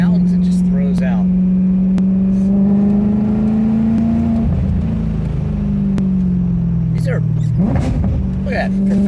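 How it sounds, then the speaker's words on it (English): Revving from a Maserati Coupe with a Cambio Corsa gearbox and Fab Speed exhaust, loud and close, the engine note climbing and dropping through quick downshifts with sharp blips, while someone talks over it at times. "the Fab Speed exhaust here helps and accentuates the sound"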